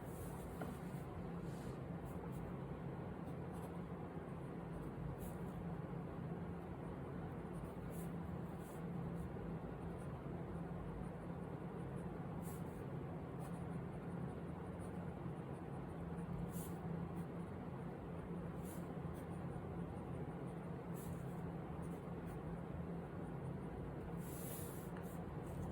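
Scratchy, continuous writing of a vintage red and chrome Spanish fountain pen with a plastic feed and decorated nib on paper, a close, steady rasp lasting throughout with small strokes and pauses, no talking.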